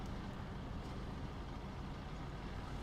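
An enemy anti-aircraft truck in the War Thunder tank game, near a Reichstag map, gives off a steady low engine rumble, faint and distant, droning without a break.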